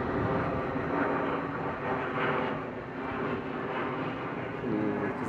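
A passenger airplane roars low overhead on approach to an international airport near a downtown residential area, a continuous loud broadband engine rumble that swells and holds for the whole stretch.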